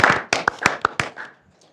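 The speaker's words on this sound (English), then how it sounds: "let's give them a round of applause for accomplishments for sure" A handful of separate, sharp hand claps at a City of Grandview Board of Aldermen meeting honoring Ward of the Month winners, sparse and close, dying away within two seconds.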